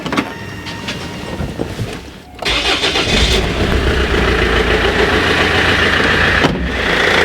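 A Land Rover Freelander engine cranks and catches, then revs up and settles into a loud, steady running rumble close by.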